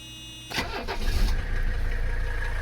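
A Mercedes 300CD diesel engine cranks and catches after a moment of quiet, then settles into a steady, close idle rumble.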